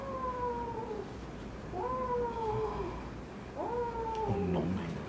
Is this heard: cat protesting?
yes